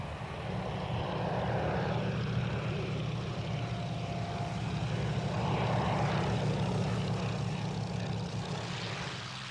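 A Fairey Swordfish propeller biplane drones steadily overhead at the 1999 Duxford airshow, its low engine hum holding loud and constant throughout with no voices.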